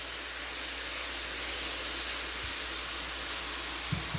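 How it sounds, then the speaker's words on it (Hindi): Green chilies frying in hot oil in a pan for matar pulao, a steady bright hiss and sizzle that holds evenly throughout with a couple of faint low knocks near the end. "इसको फ्राई कर लें"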